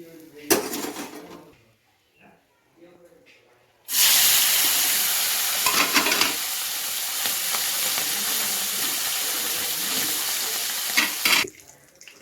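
Tangra fish frying in oil in a pan: a loud, steady sizzle rises abruptly after a few quieter seconds of handling noises and continues evenly, then cuts off near the end.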